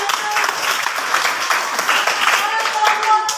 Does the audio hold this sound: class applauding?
yes